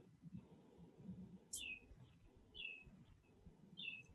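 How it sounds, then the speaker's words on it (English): Small bird chirps sound three times in the background of a city commission meeting held over a call, faint short calls over a low hum and room noise. "Who's got the bird chirping?"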